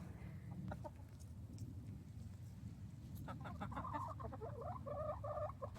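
Backyard hens cluck in the snow, soft repeated clucks and a short run of rhythmic calls over a low steady background hum, heard faintly at a modest distance.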